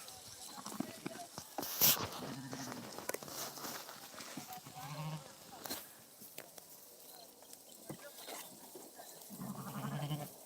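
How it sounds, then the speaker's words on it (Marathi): A flock of sheep at the water bleats faintly and intermittently at a distance, with scattered bleats and low animal calls under a quiet outdoor background and some voices. "मेंढ्या आता पाण्यावर आलेला आहे"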